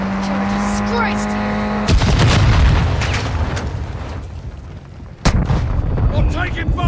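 Gunfire and heavy booms ring out in the video game DMZ, loud and close, with blasts layered over vehicle rumble and players shouting over the noise.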